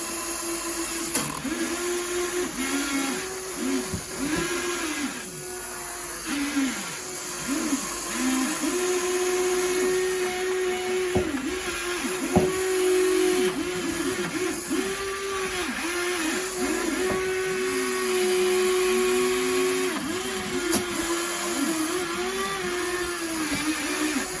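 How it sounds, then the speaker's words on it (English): Servo motors driving the arm and tracks of a Huina RC excavator, a steady mid-pitched whine that rises and dips in quick wavering sweeps as the machine moves, continuous and fairly close with no talking. "Listen to those servos drive compared to the other one."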